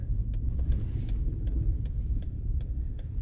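A truck pulls into a home driveway, its low engine rumble steady and close with faint ticking on top, and no voices.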